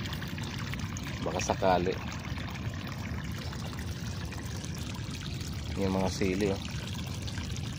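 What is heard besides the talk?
pouring water onto drying chili plants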